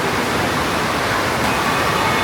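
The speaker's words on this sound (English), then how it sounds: "this is their wave pool, and the waves are pretty strong over here" Waves surge and crash in a strong indoor wave pool at a Great Wolf Lodge water park in Anaheim, a dense, loud, steady roar of churning water.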